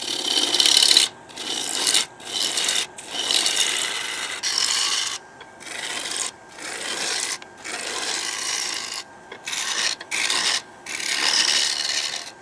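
A lathe turns a round-bottom wooden bowl as a gouge roughs the timber into shape, giving a loud, close, continuous rasping cut broken by short pauses as the tool lifts off and re-engages.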